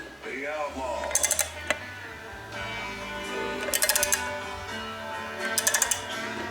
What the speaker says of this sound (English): it takes less than 20 foot-pounds to rotate the crank